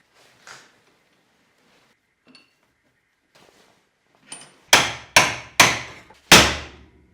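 A new U-joint is hammered into the axle of a Polaris 6x6. A few faint taps come first, then four loud, sharp metallic blows ring out in quick succession with no talking.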